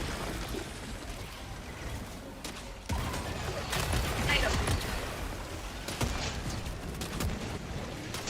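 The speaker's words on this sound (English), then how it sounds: "I think my mortar just broke a bug nest." Mortar fire in a video game: repeated heavy thumps and rumbling blasts over a dense layer of distant gunfire and mechanical clatter, with voices talking throughout.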